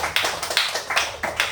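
A group claps hands together in a steady, even rhythm during first communion preparation with a Catholic priest: about eight sharp, close claps spaced roughly evenly, with no talking.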